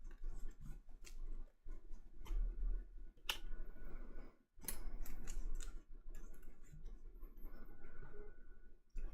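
Cards from the DC deck-building game are shuffled by hand at close range, giving a run of soft riffles, flicks and taps with brief pauses between bursts.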